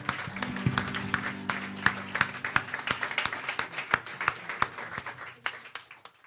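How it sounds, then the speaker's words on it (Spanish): A congregation at a church service claps for several seconds, a fairly faint mix of distinct hand claps over a soft sustained tone. "Fuerte el aplauso para el Señor"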